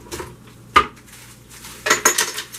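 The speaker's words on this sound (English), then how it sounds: "And let's put some in the blender, shall we?" Disneyland candy canes clatter into a Blendtec blender jar in a few sharp, hard knocks and rattles, close by, with quiet gaps between the drops and no speech.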